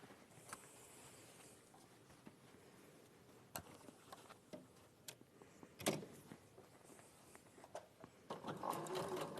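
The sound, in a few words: sewing machine stitching in the ditch on binding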